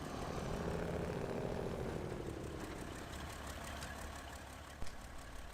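A Kenworth 963 truck engine in SnowRunner runs at a steady drone, louder at first and then easing back, with a brief bump near the end and no talking.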